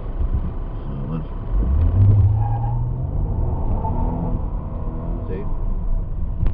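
2012 Lincoln MKZ rental car on an empty industrial road, its engine climbing steadily to high revs from inside the cabin with a smooth rising drone, then settling into an even road rumble.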